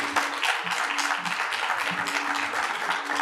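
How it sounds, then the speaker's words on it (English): Steady applause from a crowd, continuous dense clapping filling the whole stretch at a fairly even level, with no voices over it. "a round of applause for our panelists,"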